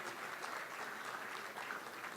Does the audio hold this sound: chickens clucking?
no